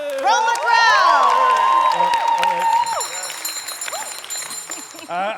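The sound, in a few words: crowd cheering and raucous applause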